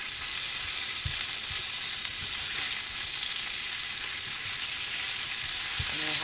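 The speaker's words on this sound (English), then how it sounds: "Okay, we're flipping our sausages." Breakfast sausage patties sizzle loudly and steadily in a frying pan, with a few soft knocks as they are flipped, the close, continuous hiss running throughout with no talking.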